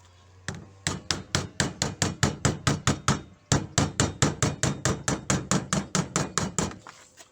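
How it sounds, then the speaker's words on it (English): A glazing mallet makes sharp, even taps as it knocks a UPVC panel into an old back door. Around thirty crisp knocks come in two quick runs with a short pause between them, close and loud. "We use a glazing mallet. You could use a hammer on these panels."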